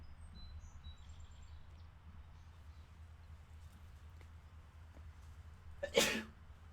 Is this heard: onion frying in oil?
no